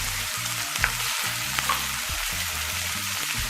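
Onion, garlic, ginger and green chili sauté in hot oil for a Kerala-style mushroom roast, giving a steady close sizzle with a few sharp spatula scrapes and taps against the pan, no voices.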